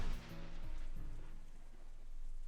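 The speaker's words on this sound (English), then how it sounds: "I feel the first drop of rain land on the back of my hand." Steady rain sound effect from the visual novel Katawa Shoujo at an outdoor picnic, a continuous close wash of falling drops with a soft thump at the start and no voices.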